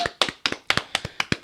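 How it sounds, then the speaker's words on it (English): A few people clapping for a podcast guest, about ten sharp close hand claps in a quick, slightly uneven rhythm in a quiet room. "Give a hand clap for our special guest, Krista."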